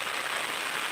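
Rain falling in a village near a river, a dense, even hiss of drops with no voices.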